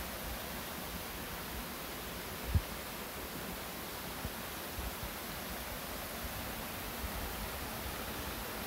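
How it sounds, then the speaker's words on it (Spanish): Steady broadband rush of a waterfall dropping about 7 to 8 metres into the green pool of Poza Verde at Xochitlán de Vicente Suárez, continuous and even throughout with one brief soft knock. "Aquí vemos una cascada, una caída de agua de unos 7, 8 metros"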